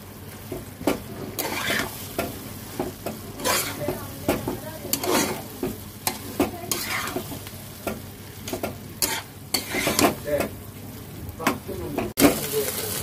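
Okra is stir-fried in a pan, with a spoon scraping and clacking against the metal in quick repeated strokes over a low, continuous sizzle. It is close and fairly loud, and faint speech is heard in places.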